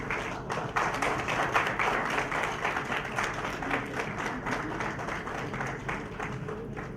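Audience applause at an award ceremony and success meet rolls on steadily, with many hands clapping in a continuous, moderately distant wash and individual claps faintly audible.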